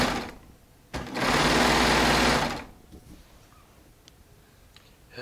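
A Baby Lock Triumph serger running four threads through Shannon Cuddle fabric gives one sustained, loud mechanical whirring burst of about a second and a half, followed by quiet handling noises.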